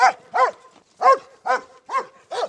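A dog barks six times in a steady rhythm, each bark short and clear, close by with quiet gaps between.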